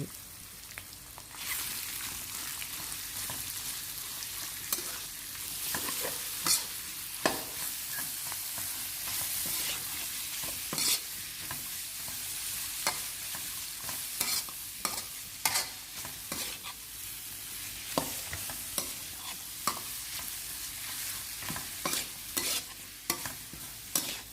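Frozen clam meat and onion stir-fry in chili paste in a pan, with steady sizzling and repeated scraping, clattering strokes of a spatula throughout, close and moderately loud.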